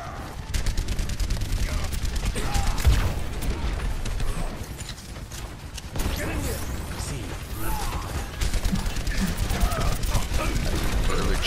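Rapid gunfire in Overwatch on the Rialto map, dense bursts of automatic shots clattering in quick rhythm with mechanical clanks, near and loud, with brief lulls and people talking over the action.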